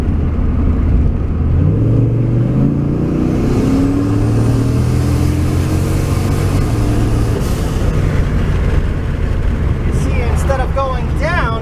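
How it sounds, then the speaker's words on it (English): Car engine taken to wide open throttle with the PCV hose unplugged from the air filter, a loud steady drone and rising revs throughout, a few faint higher tones near the end. "I'm going to go wide open throttle now."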